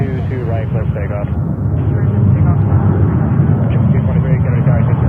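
A jet airliner taking off from runway 22 right at JFK airport, a loud, continuous low roar of engines filling the whole stretch without pause.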